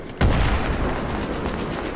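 Gunfire in the video game Battlefield 3 during a multiplayer Conquest round on Caspian Border, a sudden loud burst followed by sustained dense rattling shots and booming reverberation, no voices.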